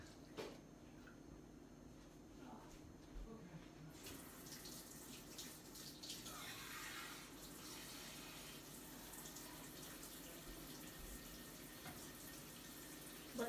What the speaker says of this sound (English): I'm gonna be adding, you know, the 1 1/4 cups of water.